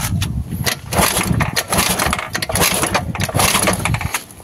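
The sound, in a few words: Honda Vario 110 carburetor scooter trying to start, not starting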